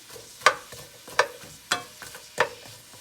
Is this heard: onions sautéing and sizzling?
yes